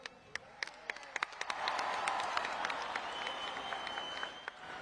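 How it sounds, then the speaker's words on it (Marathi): A crowd at the opening ceremony of a tennis-ball cricket tournament bursts into loud, sustained applause, starting with a few scattered claps and swelling into dense clapping that carries on to the end. "सलमान भाईचं स्वागत करायचं जोरात टाळ्या वाजवून"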